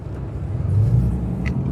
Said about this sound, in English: we are in the truck and we are headed down to the store